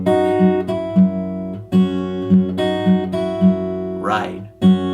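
Fingerpicked acoustic guitar riff from a song, with plucked bass notes alternating with treble notes in a steady rhythm, close and clear, played alone with a brief scraping noise near the end.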